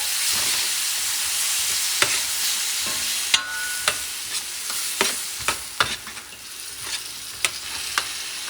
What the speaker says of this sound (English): I have a grated tomato, fresh. Going to mix it up.